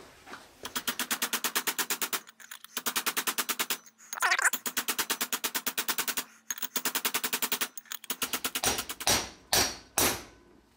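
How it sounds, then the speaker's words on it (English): Rapid metallic hammering on a center punch against the front hub of a 1980 Ford F350 service truck, delivered in fast repeated bursts separated by short pauses, close and loud, with a few slower heavy blows at the end. "I gotta use a center punch, which will work"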